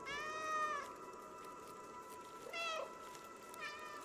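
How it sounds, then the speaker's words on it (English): A cat meowing in the video game Stray, three drawn-out meows, the first long and clear, the next two shorter and spaced apart, close over a quiet ambient background. "Press B to meow."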